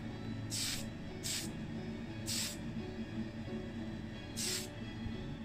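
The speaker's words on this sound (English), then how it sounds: "it'll be given the Tamiya fine surface primer in white" Tamiya white fine surface primer sprayed from an aerosol can onto a Matchbox Ford Anglia model car: four short, sharp hissing bursts separated by pauses, over a low constant background hum.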